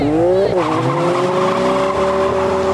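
A Dodge Charger roars loudly from a drag-race launch, its engine note climbing in steady rising tones while tires squeal hard against the pavement, close and continuous throughout.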